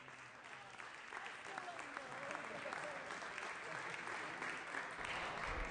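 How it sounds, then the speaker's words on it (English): An assembly floor session audience breaks into applause that builds quickly into a sustained, fairly distant round of clapping and carries on steadily, with a little crowd murmur underneath. "I think we should give her a round of applause"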